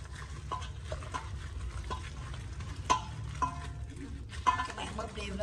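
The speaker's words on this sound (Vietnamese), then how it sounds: "Rồi bắt đầu mình sẽ đem chiên." Chicken wings coated in flour, seasoning and egg fry in hot oil with a continuous close sizzle, broken by occasional stirring clicks and scrapes.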